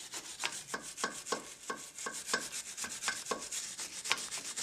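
A Nissan Terrano II kingpin is scrubbed clean before fitting, with about a dozen quiet, rhythmic rasping strokes of steady back-and-forth rubbing, close by and with no talking.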